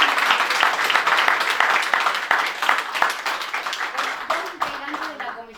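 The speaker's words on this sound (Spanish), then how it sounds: "Le damos un aplauso." An audience at a local-history talk breaks into warm applause, loud and dense at first, then thinning and fading, with a faint voice emerging near the end.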